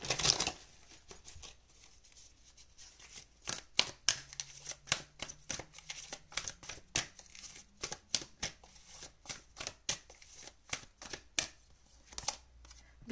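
Tarot cards are shuffled and handled for a pick-a-card reading: a run of crisp, close flicks and snaps in quick irregular bursts, with soft rustling between them and no voices.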